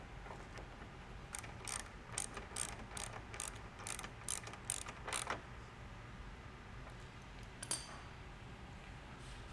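Ratchet clicking while a tow hook shaft is reinstalled on a car, a quick run of about a dozen crisp, evenly spaced clicks up close, then a pause and one more click, with no talking.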